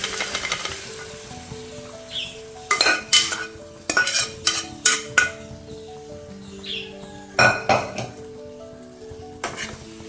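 A spoon stirs boiled chickpeas into a Kerala-style kadala curry in a metal pot, making a run of close clinks and scrapes against the pan over a soft sizzle, with no talking.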